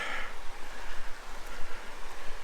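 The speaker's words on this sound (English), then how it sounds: "There's the Manning River, so we'll get to listen to that" Water of the Manning River flowing at a bush campsite, a soft steady wash with gentle surges and low rumble, no talk.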